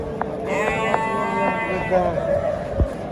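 Goats bleat loudly nearby at a livestock market in Tashkent, one long wavering call over a busy background with scattered knocks and faint voices.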